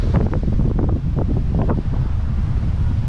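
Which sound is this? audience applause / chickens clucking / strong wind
strong wind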